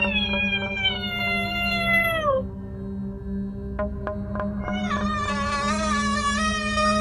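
Cat wailing and crying at a door, long drawn-out rising and falling yowls, a pause with a few faint taps, then another sustained wail, close and loud over a steady low hum.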